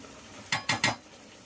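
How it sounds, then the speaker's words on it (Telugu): A ladle stirs cauliflower pieces in a pan of tomato curry, giving three quick scraping clinks close by in an otherwise quiet kitchen. "ముక్కలు వేసుకొని ఈ విధంగా కలుపుకోవాలండి. గరిటెతో"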